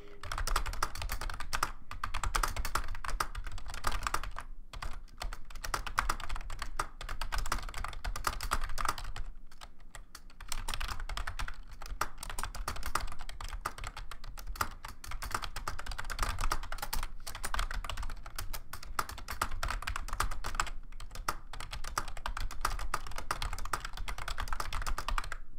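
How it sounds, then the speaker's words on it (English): Fast typing on a computer keyboard, a dense, continuous close-up clatter of keystrokes with only brief pauses throughout. "I'm having some trouble typing that sentence."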